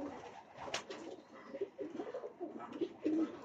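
A breeder pair of Sabz Motia pigeons coos softly nearby in Faisalabad, low throaty rolling calls repeating in uneven phrases over a faint background.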